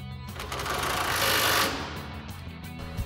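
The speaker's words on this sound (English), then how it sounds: "use our 18 mil socket on our impact to tighten these back down" An impact wrench with an 18 mm socket tightens sway bar nuts on a 2019-2023 Chevrolet Silverado 1500, a steady, loud rattling buzz that swells slightly in the middle and runs for about three seconds without pause.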